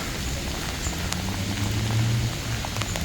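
Steady rain pattering on granite pavement in Nagasaki, Japan, a dense continuous wash of drops with a low rumble underneath and a few sharper drips.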